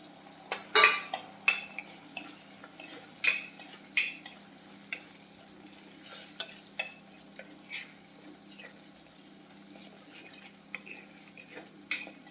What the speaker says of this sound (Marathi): हे चारी मसाले टाकायचे आणि खोबऱ्याचे ते वाटण परतून घ्यायचं